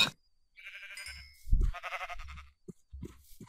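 Sheep bleating in the Minecraft video game, two wavering blocky bleats in quick succession, fairly clear, with soft low thumps of footsteps or blocks between them.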